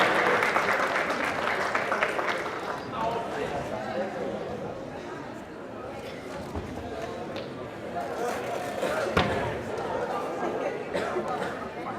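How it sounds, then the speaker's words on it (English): Applause at a women's boxing finals award ceremony, a Golden Girl 2019 event, with clapping that is heavier at first and then settles under steady crowd chatter and talking across the venue, with a few sharp thuds. "Big applause."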